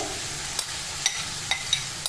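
Rice and spices are stir-fried in a pan for restaurant-style fried rice, a soft continuous sizzle with several sharp scraping clinks of a spatula against the pan.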